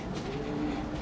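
Racing pigeons coo softly at their loft after a training race. A low, quiet murmur of cooing sits in a calm background.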